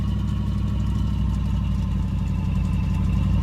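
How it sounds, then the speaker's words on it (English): An old car engine fitted with new pistons runs steadily in a video game, a constant loud low droning idle with no breaks. "she actually doesn't run too bad now with just some pistons installed on this old engine"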